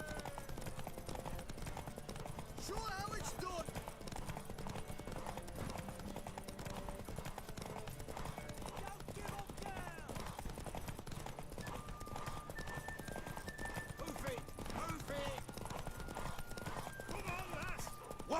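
Horse hooves clip-clopping steadily in The Witcher 3, with a neigh or whinny, set under game dialogue, music and ambient noise throughout.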